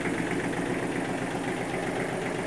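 A three-cylinder Kubota L1-195 diesel tractor engine idles nearby, a continuous low rumble with a slight rhythmic knock, loud and unbroken throughout.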